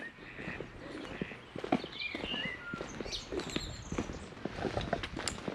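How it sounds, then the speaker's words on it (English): Donkeys walking on a country road in the New Forest, a run of irregular hoof clops close by, with birdsong and light outdoor ambience around them. "that's the first time we've seen donkeys on this walk"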